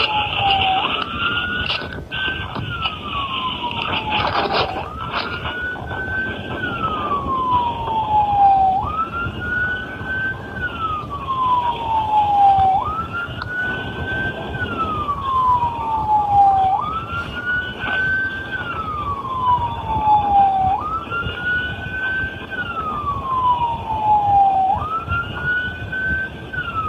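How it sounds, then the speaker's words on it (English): A weak electronic police-style siren, like a toy police car with dying batteries, wails in slow repeated rising and falling sweeps, loud and continuous, with faint background noise. "It sounds like one of those toy police cars where the batteries are going out."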